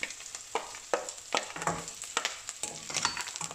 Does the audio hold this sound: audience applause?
no